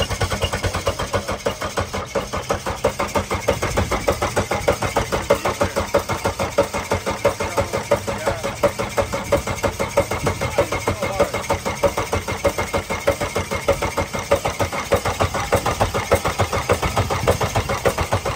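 A Ford Probe's engine turns over repeatedly in a steady rapid rhythm, cranking without catching, loud and close for the whole stretch.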